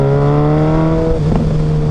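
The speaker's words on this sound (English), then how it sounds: "That's a good backfire" Suzuki Hayabusa 1300 motorcycle engine droning steadily, then a short sharp backfire pop breaks through the hum partway in, with the engine running on afterward.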